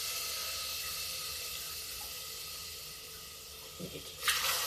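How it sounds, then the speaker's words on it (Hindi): Water pours into a pressure cooker holding toor dal, a steady close hissing rush that tapers off, followed by a few faint knocks and a brief clatter at the end. "उसी हिसाब से हम इसमें 2 कटोरी पानी डाल देंगे।"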